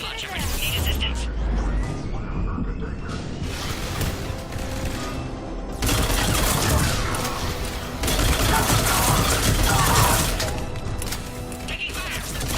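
Gunfire crackles through a Mass Effect battle at a checkpoint against Cerberus forces, with dense bursts and impacts forming a loud, continuous barrage under game music and combat noise, with voices calling out between shots.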